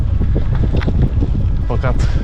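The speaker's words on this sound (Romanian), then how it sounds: "Bate atât de tare vântul că nu cred că o să putem să scoatem drona pe aici." Strong gusting wind by the Danube near Gostinu, Giurgiu, Romania buffets the microphone with a heavy low rumble throughout, while a person speaks briefly in Romanian over it.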